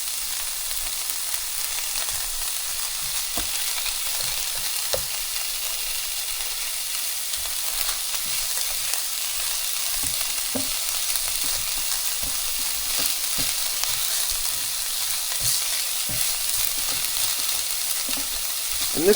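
Chicken pieces frying in oil in a pan give a steady, even sizzle that runs unbroken for the whole stretch, dotted with faint crackles and pops, with no talking.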